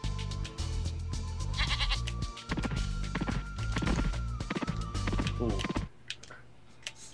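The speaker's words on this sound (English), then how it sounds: "Lovely goats." Goats in the video game Spyro 2: Ripto's Rage bleat repeatedly in a rapid, wavering series over game music and sound effects.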